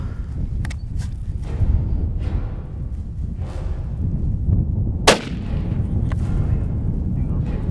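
A single sharp hunting rifle shot cracks out near the middle, standing above steady outdoor wind and rumble along with faint movement noises.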